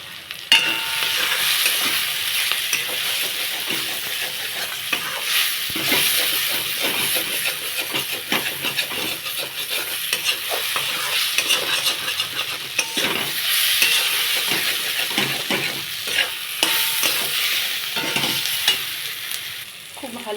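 Rui fish curry with turmeric being stirred and fried in a pan, a steady sizzle and hiss running throughout with repeated scraping stirs, close and fairly loud, no talk.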